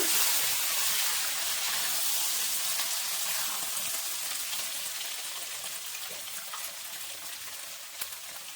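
Sarikanda root pieces frying in a pan, giving a steady dense hiss and crackle that fades slightly toward the end, with no voices.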